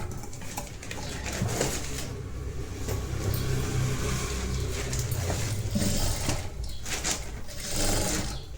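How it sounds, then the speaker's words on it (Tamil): A sewing machine stitches a blouse, running a flat stitch and then reversing, in uneven bursts of rapid mechanical whirring close by, with brief pauses between runs. "ஃப்ளாட் ஸ்டிச் போட்டதுக்கப்புறம் ரிவர்ஸ் பண்ணி இந்த இடத்துல ஒரு ஸ்டிச் போட்டுக்கோங்க"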